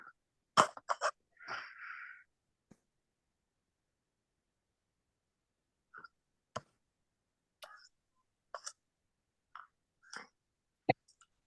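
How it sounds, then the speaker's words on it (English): A few sharp, near coughs break a quiet room, followed by scattered faint clicks and soft noises separated by long silences. "sorry, now I'm coughing"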